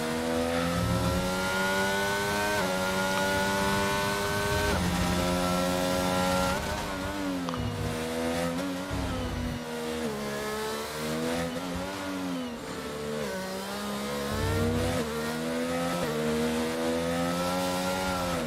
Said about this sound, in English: bit of oversteer and wheel spin at the same time there